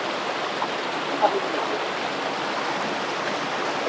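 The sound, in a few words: fast-flowing river water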